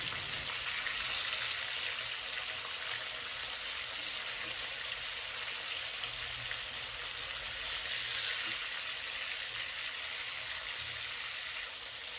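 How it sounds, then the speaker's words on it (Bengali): Snakehead fish frying in a wok, a steady dense sizzle running throughout at moderate level, with heavy rain falling outside in the background. "মাছগুলো এক পিঠ ভাজা হয়ে গেছে, তাই উল্টে দিচ্ছি"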